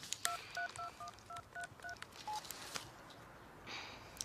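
Keypad tones ring out as a phone number is punched into a mobile phone, roughly eight short, bright beeps in steady succession. A single lower tone follows, then quiet background hiss without speech.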